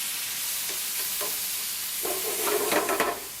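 Pork chops and mushrooms simmering in vinegar in a pan give off a steady, soft sizzle with occasional stirring scrapes that grow busier and louder toward the end.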